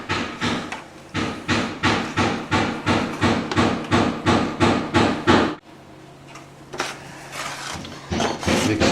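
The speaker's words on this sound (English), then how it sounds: "So then we're going to mix a bit of plaster" Plaster being mixed for a wall-hole repair sounds as a rapid series of about a dozen rhythmic scraping, knocking strokes, followed by a quieter pause and a few more stirring knocks, all close by.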